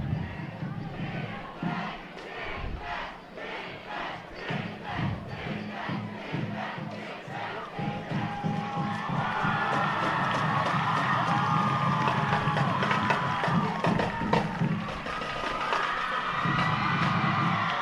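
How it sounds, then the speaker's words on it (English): A student section in a high school football stadium roars during a late defensive stand between Willamette and Crater, with rhythmic stomping and clapping that swells into sustained, loud cheering and shouting. "Students are getting loud here now."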